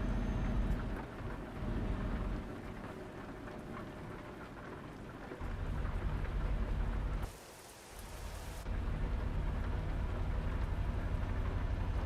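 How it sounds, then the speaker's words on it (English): Steady heavy rain with rumbling thunder in the TruckersMP truck driving game; a dense, continuous downpour with low rolling booms, one brief dip and a dull muffled stretch near the end, no speech. "We have real rain sounds,"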